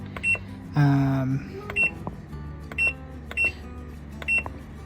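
An RV washing machine gives a brief electronic jingle when powered on, followed by a series of short, evenly spaced beeps, with a low hum underneath.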